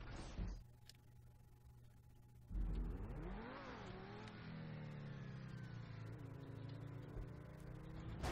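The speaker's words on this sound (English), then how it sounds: "It sounds like a metal ring just in the engine like being knocked around." Car engine in the GTA V video game revving and accelerating, with a metallic rattle inside the engine, heard as a sustained rising and falling motor drone after a sharp impact.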